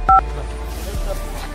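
Telephone dialing as a constable phones a doctor in a comic police skit: one short, loud keypad tone at the start, followed by quieter background noise.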